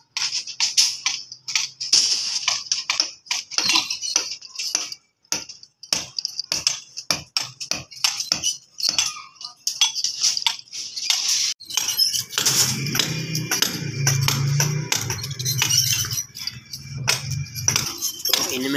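Steel rebar clinks and rattles in rapid, irregular metallic taps as workers twist binding wire around the bars while preparing a house roof slab, with a denser, louder metal clatter and a low rumble coming in toward the end.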